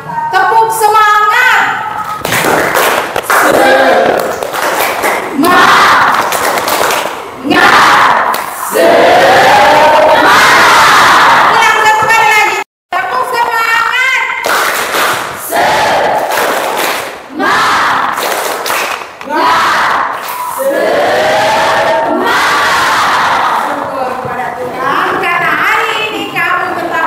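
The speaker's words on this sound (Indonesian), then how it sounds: "kita buat tepuk semangat" Classroom of children performing a rhythmic spirit clapping cheer (tepuk semangat), loud and close, with bursts of patterned clapping mixed with group shouting and chanting, briefly cut off midway.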